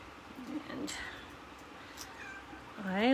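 A house cat meows a few times indoors, fairly close, ending in a longer rising meow, with a voice speaking faintly underneath.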